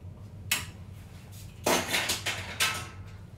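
Rainbow cupcake batter is stirred round in a bowl, the utensil knocking against the sides. A few sharp clinks stand out: one single knock, then a quick cluster of several, then another knock over quiet background.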